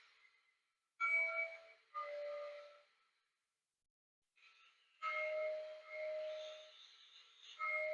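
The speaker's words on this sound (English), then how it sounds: "And now we'll do the bells." Two bursts of rapid bell clanging from a Lionel Legacy Georgia Railroad Mikado model steam locomotive, a pause between them, each a bright repeated ringing that keeps sounding steadily, heard alone and close.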